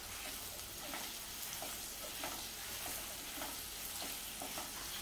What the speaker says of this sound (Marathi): आता हे चांगलं मिक्स करून घेते।